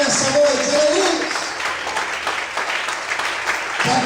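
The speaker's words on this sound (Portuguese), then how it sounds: "Será que você pode aplaudir e exaltar o Senhor nessa noite?" Congregation applauding during an evening church service with a Portuguese-speaking pastor: a dense wash of crowd clapping and cheering, mixed with voices and a brief musical tone, fairly loud throughout.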